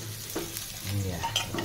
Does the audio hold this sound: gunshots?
no